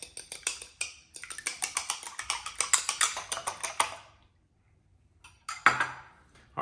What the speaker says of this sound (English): we can whisk the egg together